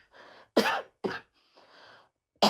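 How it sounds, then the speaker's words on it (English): Three sharp, harsh coughs, well spaced apart, with quieter throaty breaths between them, close to the listener. "Don't worry about my cough."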